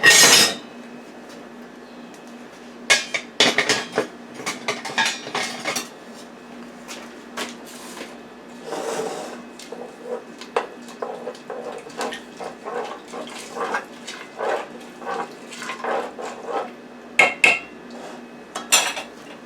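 Beef and broccoli being mixed in a pot with diced tomatoes, giving repeated scraping and clinking of a utensil against the pot in irregular bursts, close and fairly loud, with no talking.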